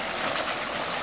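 A familiar countryside mountain stream flows steadily nearby, a constant bright rushing and babbling of water with no other sounds.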